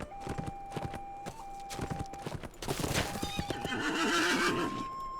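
Horse in a Lord of the Rings video game trotting with steady clip-clop hoofbeats and giving a loud whinny partway through, over ambient game background sound.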